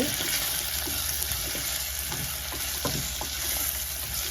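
Peeled garlic sizzling and frying in a pan for a fish curry, a steady close crackle with occasional stirring scrapes and light taps, no voices.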